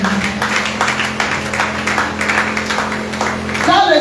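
A congregation in church applauding the Lord: steady, busy clapping over a low hum, with a voice breaking in near the end.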